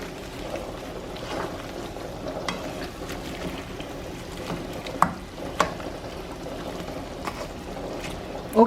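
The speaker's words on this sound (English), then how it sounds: "you see all the meat now is start to cook a little bit" Pork belly cooks in a pot for Lao Tom Khem with lemongrass, giving off a steady low sizzle and bubbling hiss broken by occasional small pops and clicks, heard up close with no talking.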